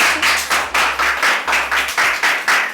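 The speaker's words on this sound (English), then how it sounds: "A round of applause for the girls." Rhythmic clapping for a pair of girls, loud and close, in regular bursts about every third of a second, like a small group clapping in time rather than a scattered crowd.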